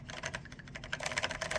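Close-up typing on an Epson Q303A keyboard with Fujitsu lever-action switches, a quick run of soft, muted keystrokes that speeds up and grows slightly louder toward the end.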